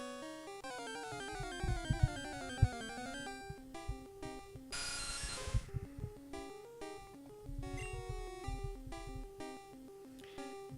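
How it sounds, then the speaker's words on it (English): A mobile phone plays a melodic electronic ringtone, a busy, repeating tune with rapid note patterns and occasional thumps, fairly faint and heard alone for about ten seconds. "My phone rang, which is pretty embarrassing"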